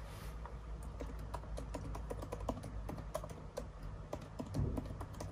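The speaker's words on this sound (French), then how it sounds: "il faut que je tape le mot de passe" Rapid, light key clicks on a MacBook Air M1 keyboard while entering a Wi-Fi password, a steady patter of close taps over faint background hum, with no talk.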